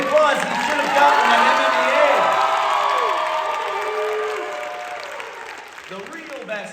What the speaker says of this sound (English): Everybody give him the applause.